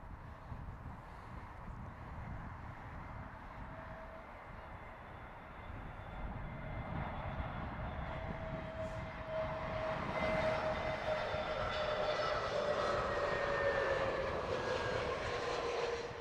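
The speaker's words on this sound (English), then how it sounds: "Then we have our Royal Air Maroc MAX 8, inbound from Casablanca, that Angelina told us about." A Royal Air Maroc Boeing 737 MAX 8 arriving at Heathrow from Casablanca roars faintly at first, then swells into a louder, broad jet rumble with a thin whining tone as it passes, with no voices.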